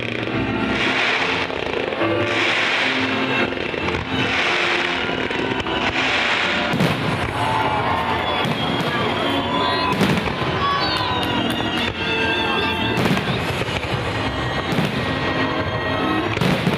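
A pyrotechnic team from Samara stages a Republic Day fireworks display choreographed to Tchaikovsky's music, with dense, continuous bursts and crackles that stay loud throughout, layered over the musical accompaniment.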